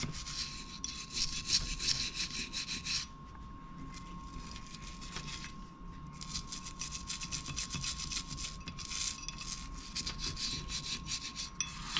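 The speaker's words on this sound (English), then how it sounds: "now we're going to brush with the nylon" Nylon brush scrubbing all around a small object, a steady close rasping rub that pauses briefly near the three- and five-second marks, then carries on with no talk.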